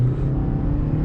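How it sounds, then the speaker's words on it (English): A 2022 Toyota Corolla LE accelerates in normal drive mode at about half throttle, giving a steady, smooth engine drone with a low hum and no talking. "So this one getting up to speed in the normal drive."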